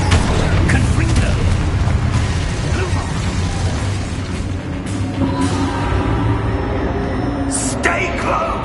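Confringo fire spell blasts in Hogwarts Legacy combat, loud booming impacts and rumbling bursts layered with mechanical clatter, close and sustained, ending with a few brighter crackling pops.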